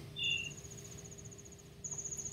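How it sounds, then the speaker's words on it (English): Snow crickets chirp in the video game Zelda: Majora's Mask, a steady high-pitched trill running through the clip over quiet low ambience, with a brief brighter chirp near the start. "These snow crickets."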